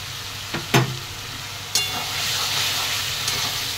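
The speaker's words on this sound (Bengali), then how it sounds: "সয়াবিন খুব ভালো করে মশলার সঙ্গে কষিয়ে নিয়েছি" Fried soybean chunks go into a pan of spice paste, giving a steady broadband sizzle with a few sharp clatters of stirring near the start.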